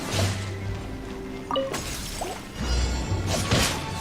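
A bright glassy shatter bursts out amid layered Minecraft game effects and low rumbles, followed by another crash and a swooshing tail.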